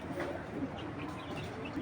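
Pigeons of fancy breeds kept for sale, soft low cooing in a faint, murmuring background with a few scattered chirps.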